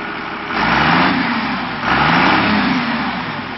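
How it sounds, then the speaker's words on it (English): A Cummins 6BT diesel engine in a Land Rover 90 is revved twice in quick succession, each burst rising loud and near over a steady idle. "Give it a rev, Sam."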